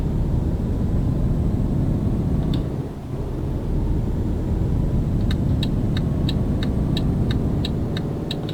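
A cement mixer truck passes in Euro Truck Simulator 2, a steady low engine and road rumble holding throughout, dipping briefly midway, with a row of quick high clicks in the later seconds.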